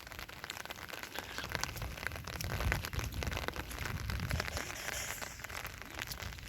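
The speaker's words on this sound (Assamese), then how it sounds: "বৰষুণ দি আছে" Steady rain falls on an open farm field during the rainy season, a soft broadband patter and crackle that holds fairly constant and close throughout, with no talking.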